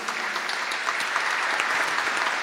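An audience at a formal award ceremony breaks into sustained, dense applause, a steady wash of many hands clapping with no talk over it.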